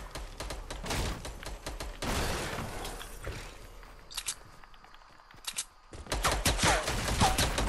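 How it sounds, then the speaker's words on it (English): Gunfire in the video game Fortnite: rapid bursts of shots in quick clusters, loud and close, with a short lull midway before another heavy volley. "they're shooting at us"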